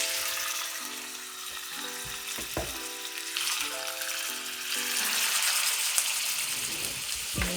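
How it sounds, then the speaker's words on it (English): Pork stew meat frying in melted lard in a pan for green chili, with a loud, steady close sizzle and crackle throughout, while music plays underneath. "now that that's melted, I'm going to go ahead and add the pork stew meat"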